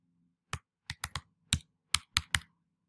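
Password being typed on a computer keyboard: eight crisp, separate key clicks in an uneven rhythm over about two seconds, close and clear, with a faint low hum underneath and no talking.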